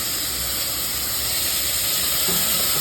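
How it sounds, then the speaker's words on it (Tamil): Chopped tomato goes into hot oil with fried spices for a Hyderabadi paneer biryani, giving a loud, steady steamy sizzle and hiss that holds for about three seconds with no talking. "ஸ்பைசஸ்லாம் பொரிஞ்சிட்டு நம்ம ஃபைனாக சாப் பண்ணி வச்ச ஒரு தக்காளி சேர்த்துக்கிறேன்."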